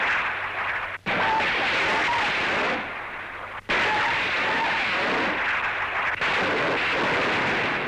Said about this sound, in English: Landing craft equipped with rocket launchers becomes a mighty warship.